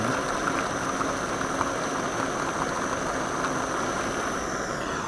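Overheating engine's waterless coolant boils and steams with a constant hissing, bubbling roar over a steady idling hum, unbroken and close for several seconds with no talking.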